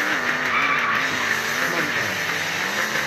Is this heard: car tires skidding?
yes